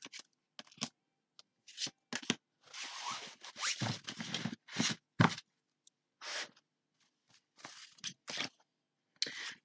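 Tarot cards are shuffled and drawn by hand in a quiet room, giving close, soft riffling and scraping bursts of varying length separated by near-silent gaps.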